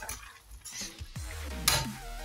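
Cauliflower roast with shahi garam masala is stirred in a pan, giving soft scraping and clinking of a spoon over a faint sizzle, with a brief sharper clatter near the end.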